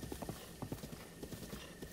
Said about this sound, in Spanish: Mira, hay más caballos salvajes.